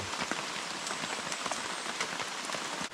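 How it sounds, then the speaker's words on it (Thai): Steady rain pours down on a hut in the middle of a forest, a dense continuous patter of drops striking surfaces close by, with no voices. "ตื่นมาพร้อมกับฟ้าคึ้มแล้วก็ฝนตกตามมานะครับผมฝนเนี่ยตก ขึ้นเรื่อยๆเรื่อยๆนะครับ"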